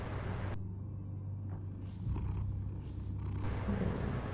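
A cat purring in the Telltale Batman video game, a steady close low rumbling purr that runs throughout, with breaks in the higher game sounds and no talking.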